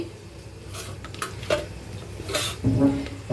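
Spices and green chilies are stir-fried in a pan, with short scraping strokes, soft sizzling and a few light clatters of the spoon against the pan over a few seconds.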